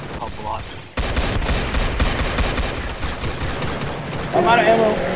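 Rapid bursts of gunfire in a video game set in Area 51 crackle continuously for several seconds after a quieter start, with some tonal chatter near the end.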